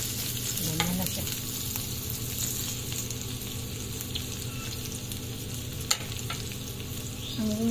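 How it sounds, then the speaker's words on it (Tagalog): Chopped onion and garlic sauté in a pan for an Ilocano igado dish, a steady close sizzle with occasional stirring scrapes and no talking. "Ang bidabidang sibuyas at bawang."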